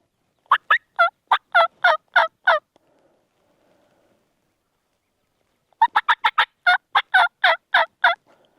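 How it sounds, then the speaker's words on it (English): Wild turkeys gobble loudly and close in the woods while hunting: one rapid, rattling gobble, then a few seconds of near silence, then a second gobble of similar length, each a dense string of throaty warbles. "I just think that one's not gobbling as much."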